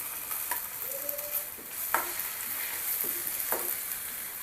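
Ginger garlic paste sizzles in hot oil with a steady soft crackle, a few spoon scrapes and taps punctuating the frying at a moderate, close distance.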